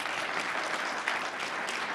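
A crowd at a Brockton community event claps for the police and fire chiefs, a dense, continuous wash of applause at steady loudness with no pauses.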